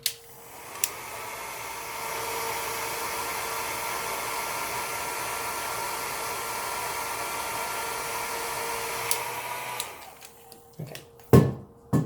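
A hair dryer blows steadily with a loud, even whoosh for about ten seconds while drying makeup, then switches off, leaving a few clicks and handling sounds.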